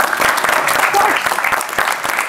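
On a comedy game show, the studio audience gives lively clapping of many hands that stays strong throughout, while a person speaks over the applause.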